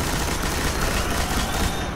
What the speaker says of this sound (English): a heavy machine gun like this, which I think tends to put out a little bit higher DPS